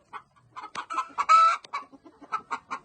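Free-range Rhode Island Red and native hens clucking on a chicken farm, a string of close, uneven clucks with one louder drawn-out squawk midway.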